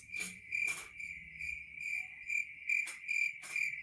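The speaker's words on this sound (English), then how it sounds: "Hold on, we got to do another crickets." Crickets chirp in steady repeated bursts, a bright insect trill pulsing roughly twice a second, clear and alone with no talk over it, played as a sound effect.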